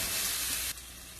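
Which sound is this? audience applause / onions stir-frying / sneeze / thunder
onions stir-frying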